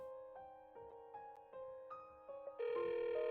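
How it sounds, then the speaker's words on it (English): A phone rings in the Tears of Themis video game while the call waits to be picked up: a run of repeating electronic tone bursts that ends in a louder sustained tone, clear and alone. "He just needs some time and wait for the person to get a chance to pick up the phone."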